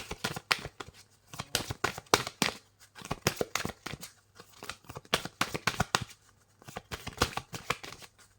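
A deck of tarot cards is shuffled by hand in quick, crisp riffling bursts with short pauses between, close and fairly soft.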